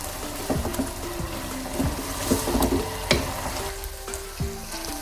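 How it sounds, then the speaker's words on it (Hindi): Beef sizzles and fries in a hot karahi with ginger garlic paste, steady crackling broken by the scrape and clatter of stirring, fairly loud and close. "इसको मैं अच्छी तरह इतना भून लूँगी जो इसका पानी है मैं उसको खुश्क कर लूँगी"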